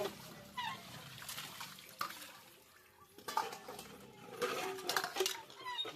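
Dishes, pots and cutlery being washed with water in a home kitchen: clinking metal and clattering utensils under splashing, running water, close and intermittent.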